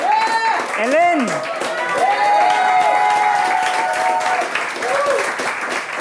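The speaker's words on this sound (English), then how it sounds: "Give it up for Elin" Applause and cheering from an audience for a coach at a bootcamp demo night, crowd clapping mixed with voices and whoops, with a person speaking over the noise.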